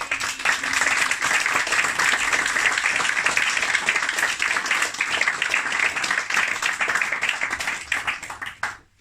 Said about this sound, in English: A big round of applause to everyone.